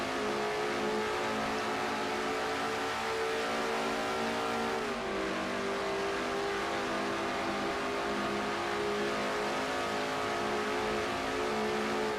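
An onboard race car engine in a sim racing game, car 52 at Watkins Glen, a loud sustained engine drone with shifting pitch as revs change and a brief dip midway, continuous and close with no talking.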